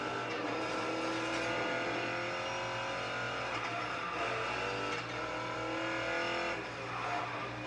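Sustained engine roar of a car running at top speed in the racing game Need for Speed Payback, a loud, steady drone with slight pitch shifts and no voices.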